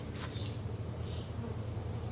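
Carniolan honey bees buzzing inside a hive box, a dense, steady low drone close by with a few brief higher whines from individual bees passing.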